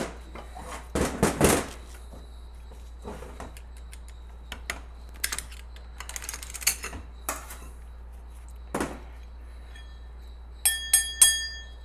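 A hardened drum hub from a 4L80e automatic transmission is struck in a garage and rings like a bell, giving several sharp metallic hits with bright lingering tones, some in quick clusters, loud and close with quiet gaps between them.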